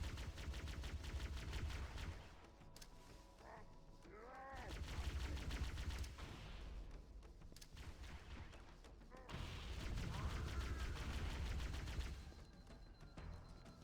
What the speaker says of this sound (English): did a frag grenade go off?